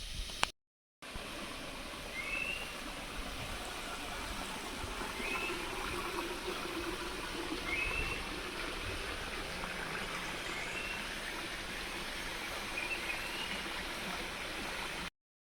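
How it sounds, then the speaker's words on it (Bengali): Khaiyachara waterfall in Bangladesh flows as a steady, broad rush of water throughout, continuous and fairly close with no voices over it. "প্রথম ধাপে আমরা চলে আসলাম ঝর্ণার, খুবই সুন্দর।"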